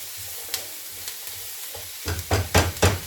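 Chicken soup ingredients frying in a pan, a steady sizzle broken by a series of scraping stirs that grow louder and quicker toward the end, close up.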